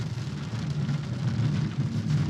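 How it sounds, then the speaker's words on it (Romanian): Rain drums on a Bentley Continental GTC Speed with a 6.0 W12 biturbo engine as it drives the Transfăgărășan, a close steady patter over a low road rumble. "Iar s-a pus ploaia, avem ploaie cu dinți, soare cu dinți"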